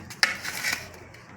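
A knife and utensils scrape and clink against a plate while a grilled cheese sandwich is cut into pieces, with a sharp tap followed by soft rasping strokes, close and fairly quiet.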